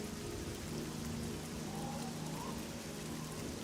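Steady rain falls in the Oblivion video game, a dense, even hiss of drops that continues without a break, fairly soft, with no voices over it.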